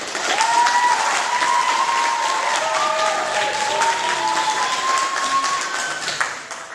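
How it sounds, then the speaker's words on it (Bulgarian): Sustained audience applause at a sports show held by an MMA club, greeting a performer who is about to demonstrate kendo sword-art movements; steady, dense clapping from a crowd throughout, with a single tonal whistle-like line running beneath it. "Овации за Митко."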